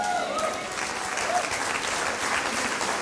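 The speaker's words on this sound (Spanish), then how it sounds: "Qué bueno que ustedes aplaudieron" A church audience applauds in a steady, dense patter of clapping that holds for a few seconds, with faint crowd murmur beneath.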